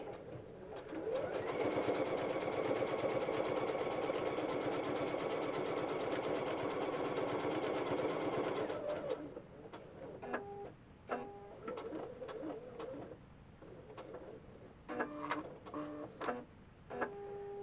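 A sewing machine quilts an embroidery wall hanging, humming in a long steady run that then breaks into short stop-start bursts with clicks and ticks, all close and fairly quiet.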